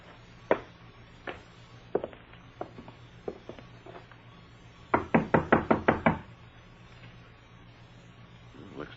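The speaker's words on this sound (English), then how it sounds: "Well, let's try knocking." Knocking on a wooden door in a radio drama, scattered single raps and then a quick run of six firm knocks, close and sharp, with voices murmuring around them.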